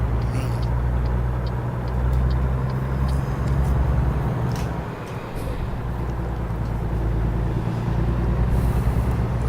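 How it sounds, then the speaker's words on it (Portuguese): Steady, droning truck engine in the American Truck Simulator game, a constant loud low rumble throughout with road noise and occasional faint hissing on top. "eu gosto muito daquele caminhão, mas quando você começa a viajar demais, né, o barulho dele começa a te incomodar um pouco"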